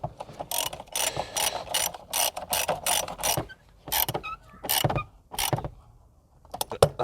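A hand ratchet tightens a car battery terminal on a Mk2 SEAT Leon Cupra in repeated quick clicking bursts, close and loud, with short pauses between runs of strokes.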